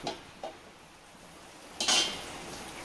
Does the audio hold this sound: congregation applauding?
no